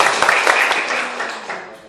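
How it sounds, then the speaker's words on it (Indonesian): Audience applause in a hall after a speaker, Pak Ahok, a dense spread of clapping that holds steady and then gradually fades, with faint voices mixed underneath. "Tepuk tangan lagi dong untuk Pak Ahok."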